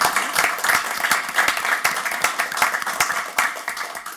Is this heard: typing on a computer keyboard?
no